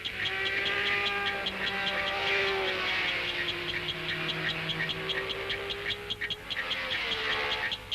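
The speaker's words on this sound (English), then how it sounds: "The Honda moves into second place behind Jim Clark" A 1966 Honda Grand Prix racing car engine screams at high revs, with a steady harmonic whine that rises and falls slightly as it moves into second place, loud and continuous throughout with no talk.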